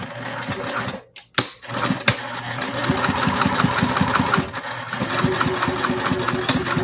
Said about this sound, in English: I'm going to sew my center first.